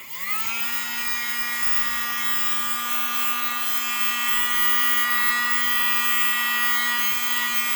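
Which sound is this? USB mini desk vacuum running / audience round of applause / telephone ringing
USB mini desk vacuum running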